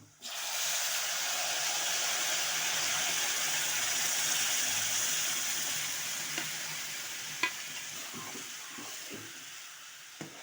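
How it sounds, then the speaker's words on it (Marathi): A pot of amaranth-leaf (ambadi) vegetable curry bubbles and sizzles with a steady hiss, gradually easing, with a couple of light clinks near the end. "त्याला आता दोन तीन उकळ आला"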